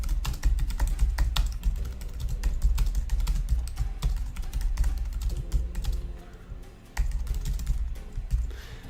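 Rapid, steady clacking of computer keys, close and clear, with a brief pause near the end before typing resumes.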